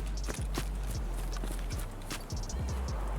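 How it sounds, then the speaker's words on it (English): Footsteps in the video game Escape from Tarkov, a series of muffled thuds and scuffs at an uneven pace, fairly faint over a steady low background hum, with no talk. "I keep hearing random footsteps"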